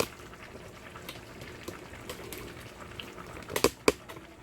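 Rice boiling in a pot on the stove gives off a soft, steady bubbling in the background, with scattered pops and a few sharper clicks and clatters near the end.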